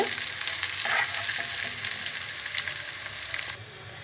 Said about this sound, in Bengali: 1 চা চামচ পরিমাণ আদা বাটা এবং 1 চা চামচ পরিমাণ রসুন বাটা দিয়ে ভালো করে মশলাটা কষিয়ে নিচ্ছি